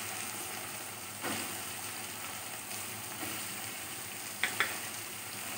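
Ash gourd tumbles into a pan of frying tomato, a steady close sizzle broken by a few soft thuds and a pair of sharp clicks near the end.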